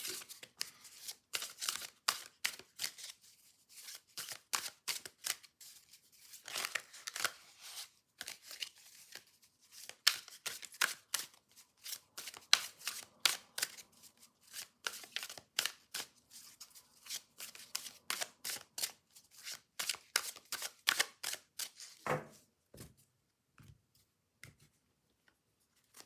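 Tarot cards shuffled by hand for a weekly energy reading, a long run of crisp, rapid riffling bursts close up, pausing briefly between shuffles with no talk.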